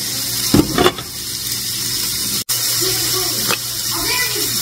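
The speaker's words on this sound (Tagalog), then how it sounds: "So, ilalagay ko na itong pichay." Pechay greens dropped into a hot pan, a loud steady sizzle with a burst of crackling and clatter early on, then continued frying hiss with faint voices beneath.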